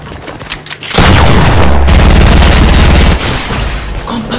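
SMG gunfire in the video game Fortnite: a loud, dense, sustained burst of rapid shots that lasts about two seconds, then cuts off into quieter game noise.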